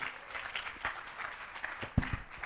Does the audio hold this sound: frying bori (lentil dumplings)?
no